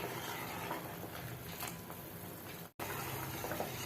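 Sweet corn soup seasoned with white pepper powder simmers steadily in a pot, giving a continuous bubbling, watery hiss at close range with one brief drop to silence partway through.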